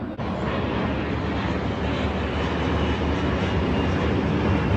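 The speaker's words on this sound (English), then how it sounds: "That, my folks, that's a plane." An airplane passes overhead as a steady, loud broadband engine roar that holds evenly throughout, with no talking.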